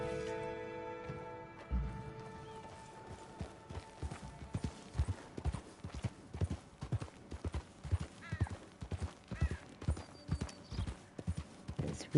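Horse trotting in the video game Red Dead Redemption 2, a steady run of clear clip-clop hoofbeats up close, rhythmic and even, with a brief snort or whinny near the start and no talk.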